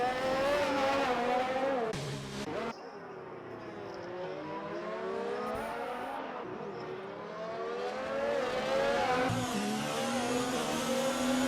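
F1 race cars at Monaco in a racing video game, engines whining and revving as they shift up and down through the gears, with a brief drop between cars before another engine surges close by.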